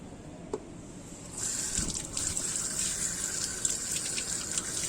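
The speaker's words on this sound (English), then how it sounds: "When we wash our hands, we should wet our hands first." Water runs steadily from a tap as hands are wetted for washing, a close gushing stream that grows stronger after a moment and carries on alone.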